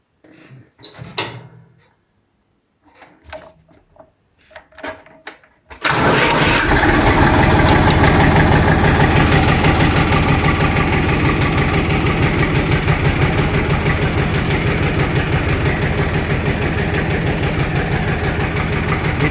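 A Kentavr 244 tractor's engine is started after a few quiet mechanical clicks and knocks, then catches and settles into a loud, steady idle with a rapid throbbing pulse that runs to the end.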